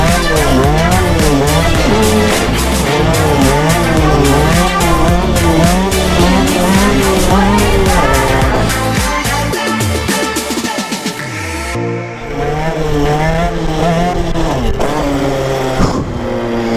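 A Drd Racing or 140 CRZ pit bike revs loudly and continuously through a wheelie attempt, its engine note rising and falling in repeated sweeps, with a brief dip and a pause around the middle before the revving resumes close to the microphone.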